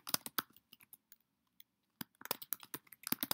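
Typing on a computer keyboard at a Mac development desk, close and crisp: a quick burst of key clicks, a pause with a few scattered taps, then a dense flurry of keystrokes, with no voices.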